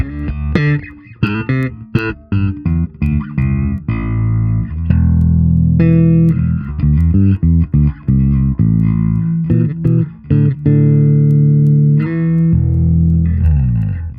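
Affordable jazz bass through its active EQ with boosted lows and highs and scooped mids, a punchy slap-and-pop line of sharp plucked and popped notes, loud and close, with no voices.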